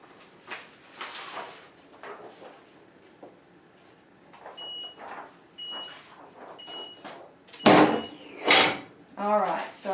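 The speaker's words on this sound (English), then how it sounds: "You can see the timer is going off." A heat press timer beeps in a short run of evenly spaced electronic tones after a 15-second pre-press for a sublimated lawn flag, set among workshop handling noises and louder clatter near the end.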